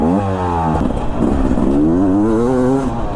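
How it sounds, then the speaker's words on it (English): A Beta 300 RR Race Edition dirt bike revs on an off-road track, its engine note climbing and falling through several loud, close throttle bursts. "I gave it a little handful of throttle and it pushed me off track, off course."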